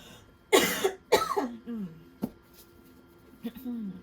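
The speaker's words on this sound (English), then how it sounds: "I'm sorry for coughing again on camera." A few sharp coughs, two close together then a lone one and a softer one later, close to the listener with brief throaty sounds between.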